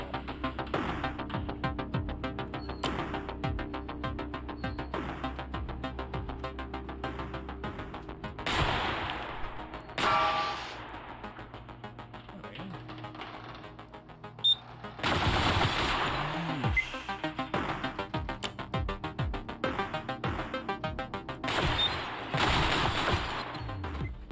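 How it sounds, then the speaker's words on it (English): Rapid bursts of video game machine-gun fire crackle repeatedly, with intermittent louder volleys and crashes, a busy firefight with no talking. "It's only loud because it's gunfire."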